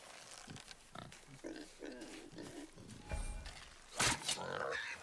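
Wild boar in God of War grunting and squealing over game sounds, with a sharp impact midway and faint talk underneath.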